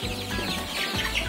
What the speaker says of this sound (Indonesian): Nah ini dia ayam-ayamnya